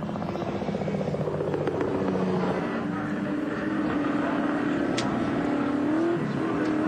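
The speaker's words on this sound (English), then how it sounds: "Finnegan and Steve Williams, they go down the front straight onto Nissan Conrod straight." VK Commodore race cars roar along the front straight at Bathurst during the 1986 race, a continuous engine drone heard from the circuit with a commentator's voice faintly mixed in.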